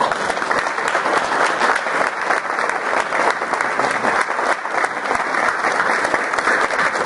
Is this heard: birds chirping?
no